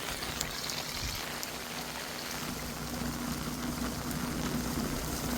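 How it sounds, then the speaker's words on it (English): Floodwater from a hurricane rushes through a yard toward a creek, a soft continuous watery wash and trickle heard from a distance with no voices. "You can see the water cranking through my yard, just trying to get to the creek."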